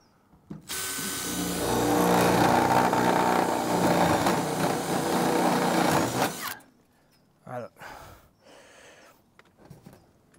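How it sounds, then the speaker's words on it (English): Metal flashing on garden room cladding is fastened with a rivet: a close tool whirs steadily for about six seconds, then stops, followed by a few short clicks and knocks. "So what I'm doing now is just get a screw in there. Not a screw, a rivet."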